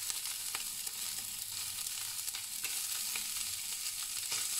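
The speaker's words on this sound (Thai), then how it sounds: "เราก็มาผัด" Garlic flowers and sausage sizzle as they are stir-fried in a pan, a steady close crackling hiss with small pops throughout and no voices.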